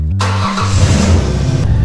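An E-Ride Pro 2.0 electric motorbike starts with a burst and then revs, its deep throaty exhaust note rising and falling, close by and loud.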